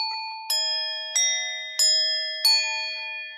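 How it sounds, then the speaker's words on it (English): Four struck temple bells ring out one after another at roughly even intervals, each strike sharp and bright with a long shimmering sustain that decays into the next; close and clear with no voices. "Temple bells."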